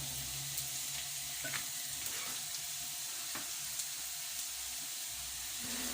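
Vegetables with a carrot sizzle and crackle in a pan for a steady stretch, a close, even frying hiss broken by a few scraping stirs.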